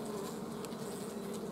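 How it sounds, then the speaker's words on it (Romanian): Honeybees buzz steadily around open hive entrances during spring colony work, a dense continuous drone of many insects close by with no talking. "pe ambele ochiuri circulă albina"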